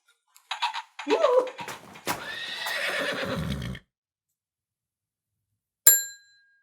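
A cartoonish braying sound effect for a donkey gives a few short honking calls and then a long, wavering bray. After a pause comes a single bright metallic ding.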